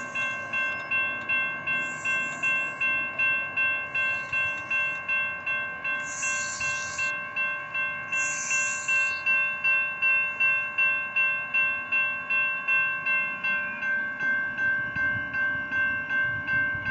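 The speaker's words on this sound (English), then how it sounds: "we got a light rail train right in the station" A Sacramento light rail train idles in a station with a steady electric hum and rhythmic pulsing, a few brief high hisses over it, no talking.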